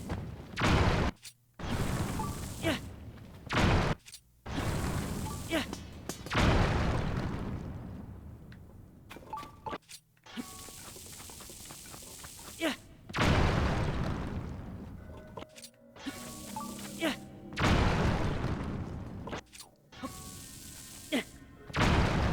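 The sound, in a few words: bomb explosions in Zelda: Tears of the Kingdom video game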